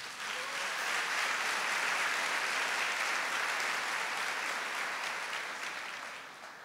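A large congregation at a Catholic sermon bursts into sustained applause, a dense, even roar of many hands that swells and then holds for several seconds before easing slightly.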